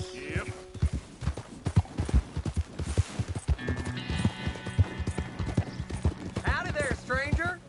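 Horse hooves clip-clop in a steady, close rhythm across the ground in the Red Dead Redemption 2 video game, with a brief whinny near the end.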